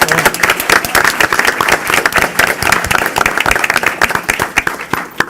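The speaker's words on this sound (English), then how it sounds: "Let's give them a round of applause as well." Close, loud applause from an audience honoring students at a Chicago bilingual education event, individual sharp claps standing out against a crowd of clapping hands, lively and uneven throughout.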